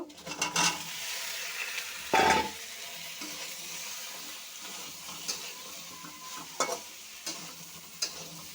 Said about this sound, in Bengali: মুগ ডালটা আমি একটু হালকা করে ভেজে নিয়েছি এখন এই ঝিঙ্গা ধুন্দুল দিয়ে দেব